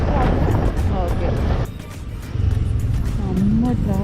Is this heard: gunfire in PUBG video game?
no